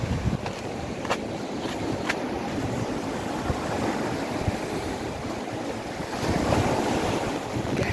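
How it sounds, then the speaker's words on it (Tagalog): Sea waves wash onto a white sand beach at a resort in Salcedo, a loud steady surf roar mixed with blustery wind against the microphone, swelling slightly toward the end, no voices. "Dito sa gilid ng dagat. Guys, you will see the beauty ng white sand here."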